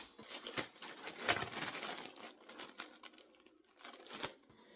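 A knife slices the rind off a block of hard cheese, giving a run of close, crisp crackling and tearing scrapes with short pauses between strokes.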